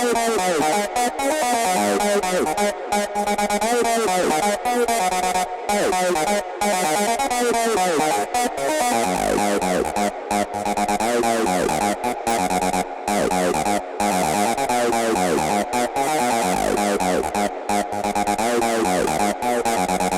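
An acid synth patch built from a basic saw preset in FL Studio plays a MIDI line, with a dense, continuous run of squelchy notes that glide in pitch, loud and steady with no voices.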